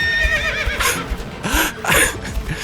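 A horse pulling a wagon whinnies loudly and close, in a long wavering neigh followed by snorting bursts over a busy background.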